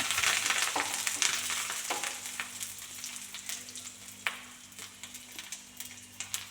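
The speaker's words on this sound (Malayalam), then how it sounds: "നമുക്ക് കറിവേപ്പിലയും കൂടി ഇട്ട് കൊടുക്കാം അതും കൂടി ഒന്ന് മൂത്ത് വരുമ്പോൾ" Crackling sizzle of curry leaves frying in hot oil, loud at first then settling into quieter popping with occasional sharp crackles.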